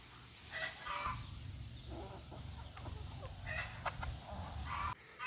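Chickens on a poultry farm cluck and call in a busy flock, with a rooster crowing now and then. The birds are near and fairly loud over a constant low rumble.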